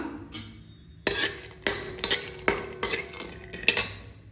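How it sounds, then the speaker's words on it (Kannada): Peanuts roasting in a little hot oil in a pan, stirred with a utensil that clinks sharply against the metal about eight times in a steady rhythm, close and clear. "ಬಾಣಲೆ ಸ್ವಲ್ಪ ಎಣ್ಣೆ ಹಾಕಿದೆ. ಎಣ್ಣೆ ಸ್ವಲ್ಪ ಬಿಸಿ ಆಗ್ತಿದ್ದಂಗೆ ಕಡಲೆಕಾಯಿ ಬೀಜ ಇದನ್ನು ಹುರಿದ್ಬಿಟ್ಟು ಒಂದು ಕಡೆ ಎತ್ತಿಟ್ಕೋತೀನಿ ಫಸ್ಟು"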